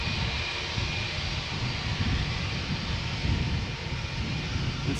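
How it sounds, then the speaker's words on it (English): SAS Airbus A320 jet on its way to Copenhagen, passing at Schiphol's Polderbaan runway: a steady, broad engine roar that stays loud and even throughout, with no voices. "This is SAS flight 552 A320 going to Copenhagen"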